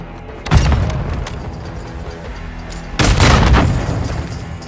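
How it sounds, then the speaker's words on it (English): Two loud, close booms from grenade explosions in a first-person shooter video game on PS5, the first sharp blast followed by a second, heavier rumbling one that decays slowly. "Grenade out."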